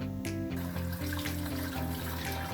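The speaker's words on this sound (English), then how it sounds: "So Heidi's hitting it with some nice cold water" Cold water runs steadily from a tap over freshly harvested broccoli in buckets, a continuous close rushing splash with a low hum beneath and no talking.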